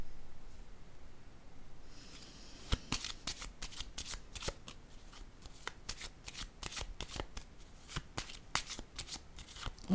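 Tarot cards are handled on a table, with a steady run of crisp, close card snaps and light slaps layered over a soft rustling background.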